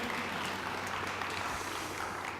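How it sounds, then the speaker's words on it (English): Steady applause from an audience at a conference session on learning and technology, a dense, even wash of many hands clapping at moderate distance, continuous for a couple of seconds with no voices over it. "So please give him an applause and thank you, sir."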